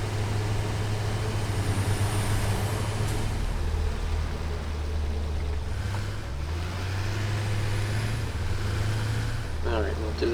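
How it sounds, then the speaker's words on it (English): A truck in the video game Satisfactory rolls in with a steady low engine drone and a rising, shifting rumble, joined by a faint hiss near the end. "Oh, our main truck's here."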